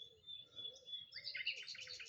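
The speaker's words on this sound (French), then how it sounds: "elle entend le chant d'un oiseau" A songbird sings in a quiet countryside setting with a soft breeze through foliage, its chirps faint and distant at first, then growing into brighter, denser twittering toward the end.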